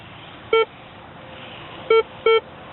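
Minelab X-Terra 70 metal detector giving a junk-target signal: three short, clear electronic beeps, one alone and then a quick pair, sounding over a faint steady background hiss.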